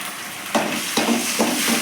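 Onions with ginger garlic paste sautéing in a pan for road-side style vada curry give a steady close sizzle, with a few soft stirring scrapes breaking through at even intervals.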